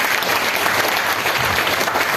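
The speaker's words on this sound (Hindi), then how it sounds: "तो उसके लिए जोरदार ताली हो जाए एक बार" Audience applause in a training hall, a steady, dense clapping from a large group that fills the whole short stretch at close range, with no talk over it.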